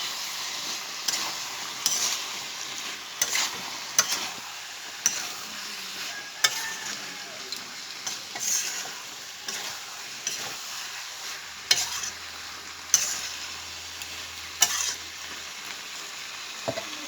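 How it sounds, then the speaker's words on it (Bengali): Food fries in soybean oil in a pan, a steady sizzle punctuated by regular scraping stirs and clinks of a spatula roughly every second or two, close and alone with no talking. "সয়াবিন দিয়ে দিচ্ছি, ভাজা হচ্ছে"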